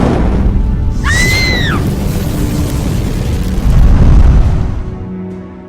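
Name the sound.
fire beam spell in a Roblox Vampire Origins game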